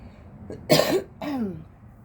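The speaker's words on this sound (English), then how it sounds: "I need to clear my throat, so you might need to turn your volume down." A person clears their throat twice, a short rough burst followed by a longer gravelly one, close to the microphone and fairly loud, with no other sounds around it.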